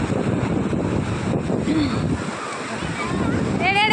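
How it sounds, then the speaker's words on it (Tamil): Ocean waves wash onto the beach at Kovalam in a continuous loud, close roar of surf and water, buffeted by wind noise on the microphone. "அலைகள் வந்து நம்ம காலில் மோதும் போது எவ்வளோ அருமையாக இருக்கும் பார்த்தீங்களா?"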